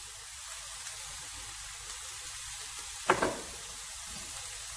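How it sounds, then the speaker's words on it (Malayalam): Sliced onion with chopped green chili and curry leaves sautés in a pan, a steady, even sizzle with a brief burst of crackling as the ingredients go in, no talking. "സവാള ഇവിടെ അത്യാവശ്യം വഴണ്ടി വന്നിട്ടുണ്ട്."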